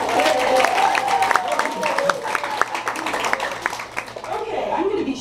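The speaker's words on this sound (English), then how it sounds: "So I want you to give yourselves a round of applause." Banquet audience gives itself a round of applause, scattered, uneven clapping with sharp individual claps, light chuckles and talking voices mixed throughout, fading somewhat toward the end.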